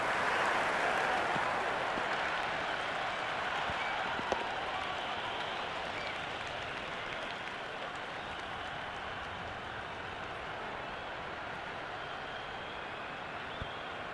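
A cricket crowd in a video game applauds and cheers during a T20 Pakistan versus South Africa semi-final, a dense, steady roar of clapping that slowly fades a little, with no talk over it.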